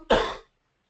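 A person with a cold gives a single short, harsh cough blending into throat clearing, close and loud, lasting under half a second before silence.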